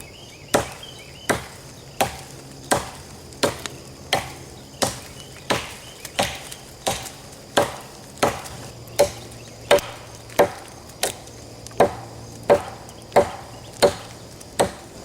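A Frank Bowie Defender knife chops into a roughly six-inch tree, sharp woody thwacks about once a second, steady and close, around fifteen strikes with nothing else heard.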